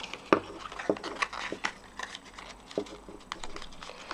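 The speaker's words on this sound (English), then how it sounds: "excuse me for a minute while I do a little bit of burnishing" A bone folder burnishes crease lines on Stampin' Up! cardstock, giving quiet, close tapping and rubbing strokes in an irregular patter of light clicks and scrapes, with no voice.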